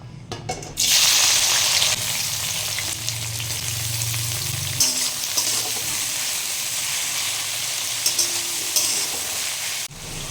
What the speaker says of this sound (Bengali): কড়াটা এখানে গরম হয়ে গেছে, এবার আমি একে একে ক্যাপসিকামগুলো এখানে দিয়ে নিচ্ছি